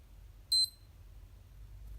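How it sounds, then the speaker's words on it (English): One short high electronic beep, doubled quickly, the hourly signal of a SKMEI Solar 2358 digital watch, sounds once against near silence and a faint low hum. "I'm going to let you listen to the hourly signal."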